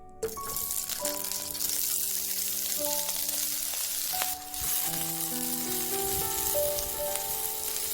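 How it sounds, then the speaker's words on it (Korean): Fish cakes stir-fry in cooking oil in a pan, giving a steady, close hissing sizzle that runs throughout beneath soft melodic background music. "팬에 식용유와 어묵을 넣고 볶고"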